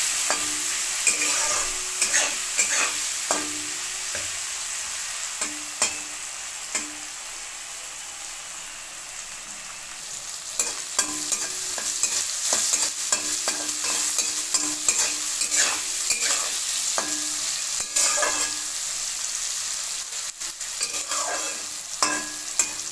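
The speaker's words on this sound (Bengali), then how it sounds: "হলুদ নুন দিয়ে এটা ভেজে নেব।" Bitter gourd frying in oil with turmeric and salt, a dense, loud hissing sizzle with frequent clinking, scraping stirs of a spatula in the pan, heard close and unbroken for a long stretch.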